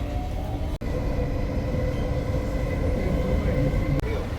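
An older Singapore metro train rides toward Paya Lebar station, giving a steady, loud rumble throughout with no talk, briefly cut by two short dropouts.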